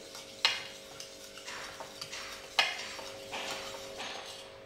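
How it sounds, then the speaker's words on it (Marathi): Sugar being whisked into oil in a bowl for an eggless zebra cake batter, with quiet scraping strokes and two sharp clinks of the whisk against the bowl's side, no voices. "एक 5 मिनिट तरी आपण साखर व्यवस्थित फेटून घेऊया मिक्स करून"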